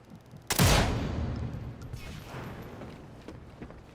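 A single loud gunshot in Sniper Elite 5, a sharp close crack followed by a long rumbling echo that fades slowly over several seconds.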